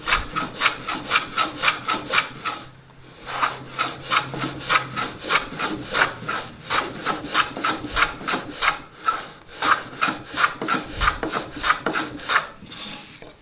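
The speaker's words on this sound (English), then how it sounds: "Another use for this bench hook is to prepare the end grains by bouncing this against the stop and flipping my square." End grain of a wood workpiece is trimmed into fine shavings on a bench hook, giving loud, rhythmic rasping strokes that repeat in quick regular succession up close with only brief pauses, and no voices.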